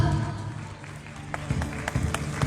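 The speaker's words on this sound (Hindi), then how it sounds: "एक बार जोरदार तालियों के साथ" An audience claps steadily in a dense wash of applause at an awards ceremony on stage, with scattered sharper claps rising toward the end.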